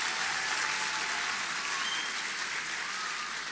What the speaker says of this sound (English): I think we should give them an applause before they even start.